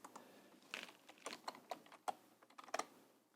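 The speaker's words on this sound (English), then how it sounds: "in the configuration you need to type some password over here" A password is tapped out on a computer keyboard in short, irregular bursts of soft, close keystrokes, quiet and with no one speaking.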